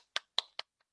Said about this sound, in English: a great applause